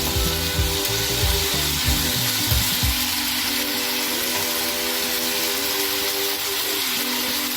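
Hyderabadi paneer cooking in a pan, giving a steady, dense sizzle and crackle that holds loud and close throughout, with a low rumbling hum underneath and no voices.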